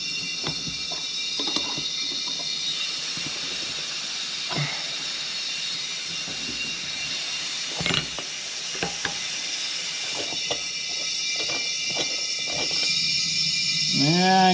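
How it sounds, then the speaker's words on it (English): A tap turned with a ratchet cuts pipe thread into a Coleman model 475 lantern part, heard as scattered close ratchet clicks over a steady hiss of escaping air, with a brief squeaky grind near the end. "we did get the pipe thread tapped all the way down in there."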